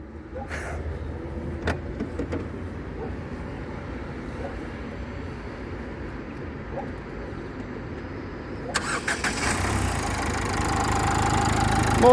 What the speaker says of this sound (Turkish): Kardeşim bir de çalıştırabilir misin? Bir motor sesini duysunlar arkadaşlar. Motor sesi önemli.